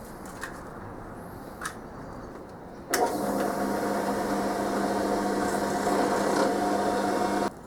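A drill bores a hole into a guitar headstock, starting abruptly after a few faint clicks and running as a steady loud whine and rasp for several seconds before cutting off.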